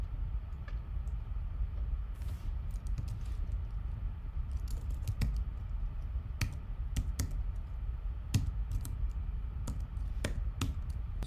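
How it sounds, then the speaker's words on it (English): A long password is typed on a computer keyboard: a steady run of quiet, irregular key taps with occasional louder clicks, close by, over a low background hum, with no speech. "It's a long password, so I gotta type it in."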